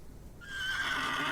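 A horse whinnies in the adventure game The Excavation of Hob's Barrow, a rising, fairly loud neigh that swells after a quiet start and holds to the end with no one talking.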